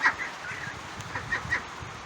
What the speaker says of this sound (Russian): А вот наши утки.